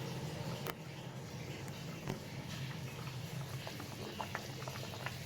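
Hilsa fish curry with green banana and potato boils in a pot, giving a steady close bubbling and popping patter throughout with no one speaking.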